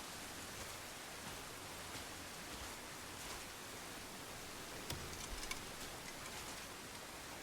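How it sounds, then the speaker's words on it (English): Steady rain hiss from a thunderstorm in the video game Crimson Desert, a constant even wash with faint ticking drops and one soft low rumble near the end. "They're having a nice little thunderstorm."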